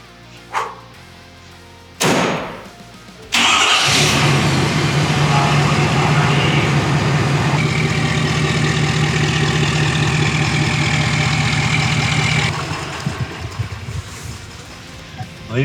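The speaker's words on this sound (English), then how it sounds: "So we're good to start it, drive it," A modified truck engine cranks and catches after a few short bursts, then settles into a loud, steady close idle that holds for about ten seconds before easing slightly; a dog barks faintly at the start.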